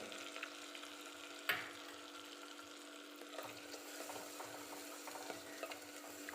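Finely chopped medium onions with asafoetida frying in a pan, a soft steady sizzle with a single sharp stir clatter early on, quiet and continuous with no talking.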